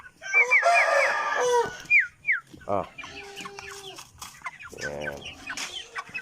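Gamecock chickens in a cage on a Bulacan farm give loud, close clucks and short crowing calls in bursts, with someone talking briefly between them.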